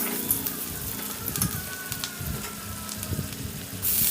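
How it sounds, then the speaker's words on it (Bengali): Green chilli and onion frying in oil in a wok (kadai), a steady close sizzling hiss with scattered crackles and soft stirring knocks, no talking. "আবার কড়াইতে তেল দিলাম, কাঁচা লঙ্কা পেঁয়াজ।"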